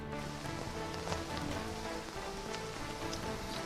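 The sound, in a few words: heavy rain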